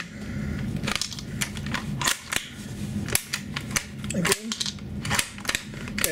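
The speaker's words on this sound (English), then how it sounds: "now I shot all my shells" An APS APM50 CO2-powered, shell-ejecting airsoft sniper rifle fires a run of sharp, close shots at irregular intervals. Each report is a brief crack, and faint mechanical handling noises come between them. A voice speaks briefly.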